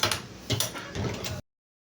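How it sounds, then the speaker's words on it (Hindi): A sewing machine stitches the waistband of a petticoat in short bursts of close, clattering mechanical whirring with ratchet-like ticks, stopping abruptly after about one and a half seconds. "तो इस पर हम डबल सिलाई लगाएंगे, थोड़ा सा हटाते हुए एक और सिलाई लगाएंगे।"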